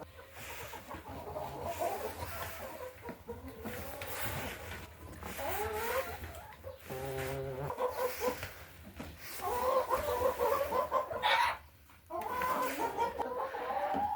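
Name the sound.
hens clucking at feed time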